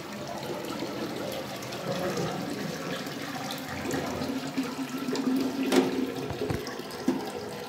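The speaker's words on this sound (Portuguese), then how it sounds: "Já dá descarga, ó." A household toilet flushes with a rushing surge, then the cistern keeps refilling with a steady hiss and gurgle of water at moderate, close range.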